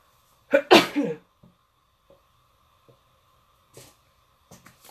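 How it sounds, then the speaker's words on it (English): A single sharp sneeze bursts out close by, followed by a few faint sniffs and small rustles in an otherwise quiet room. "And someone's going to sneeze."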